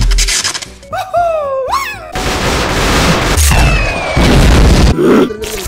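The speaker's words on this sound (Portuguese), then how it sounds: "Isso é uma bomba, pessoal." A bomb explosion special effect: a long, loud, rushing boom that swells and rumbles for several seconds, preceded by squeaky, meow-like sliding vocal sounds.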